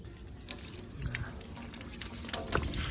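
Water running and splashing as a Suzuki Multicab F6A fuel tank is rinsed and washed, with intermittent splashes and drips over a steady trickle, fairly close and moderately quiet.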